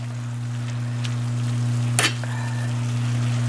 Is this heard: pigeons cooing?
no